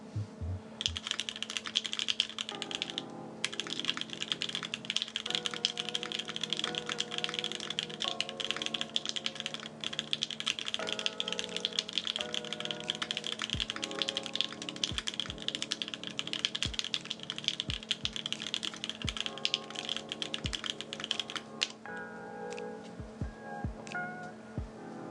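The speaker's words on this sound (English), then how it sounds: "So it's definitely a more clacky board, but that's probably just because of the switches as well." Phantom 65 mechanical keyboard fitted with Queen switches being typed on, a steady run of close, clacky keystrokes with a few louder bottom-out clicks, heard alone without voices.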